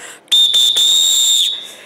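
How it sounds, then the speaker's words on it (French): A single sharp referee whistle blast, shrill and steady, held for about a second with a brief warble before it cuts off. "je vais donner mon petit coup de sifflet quand même"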